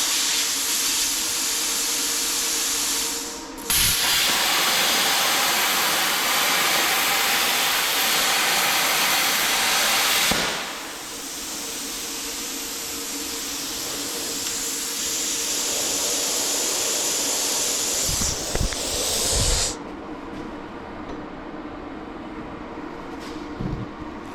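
A bestarc BTC800DP 80-amp plasma cutter cuts through metal with a loud, sustained broadband hiss and roar that runs in long continuous passes, broken by brief pauses and sharp clicks when the arc stops and restarts.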